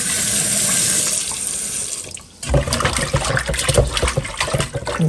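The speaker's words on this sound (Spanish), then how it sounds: "Ahora yo esta agua la boto y pongo agua limpia." Tap water runs into a kitchen sink while beans are rinsed, a continuous splashing stream that briefly drops off, then resumes with busier, uneven sloshing.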